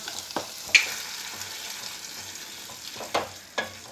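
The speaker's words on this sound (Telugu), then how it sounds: "ఉల్లిపాయ వేగిన తర్వాత ఇందులో ఉడకపెట్టుకున్న పప్పు వేసుకొని కలుపుకుందాం" Boiled dal stirred into fried onions in a pan for a curd and amaranth-leaf dal, a soft steady sizzle with a few sharp scraping strokes of the spoon.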